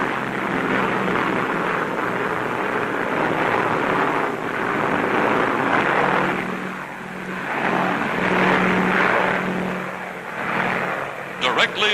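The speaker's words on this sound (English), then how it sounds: "Transports are escorted by squadrons of fast P-38s, American fighter planes." Military transport planes with an escort of P-38 fighter aircraft fly over a coastline, a steady droning roar of propeller engines mixed with wind rush, sustained and fairly loud throughout, with narration over it.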